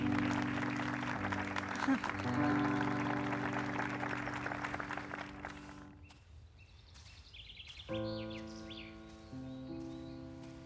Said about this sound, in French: Donc un tonnerre d'applaudissements pour Gladys